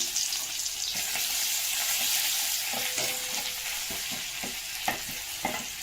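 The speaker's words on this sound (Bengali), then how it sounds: "কালো জিরে ফোড়ন দিলাম আমাদের মাছটার জন্য রসুন দিয়ে দিলাম" Nigella seeds and garlic tempering in hot oil for a fish dish, with a loud continuous close sizzle and a series of soft spatula knocks and scrapes later on, no talking.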